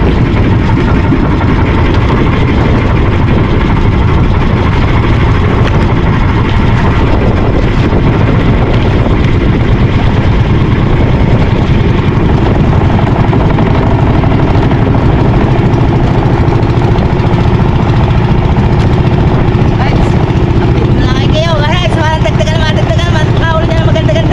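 A loud, steady engine rumbles at idle throughout, with a constant low drone, and voices come in faintly near the end.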